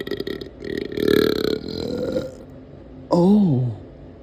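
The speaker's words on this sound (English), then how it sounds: "Ready for this big burp?" Close, loud belching: a long throaty burp swelling and fading, then after a brief pause a second short burp with a rising-and-falling croak, no speech.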